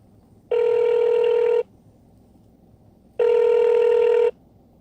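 After a redial, a telephone ringback tone sounds twice, each a steady buzzing ring lasting about a second, separated by a quiet gap over faint background hiss.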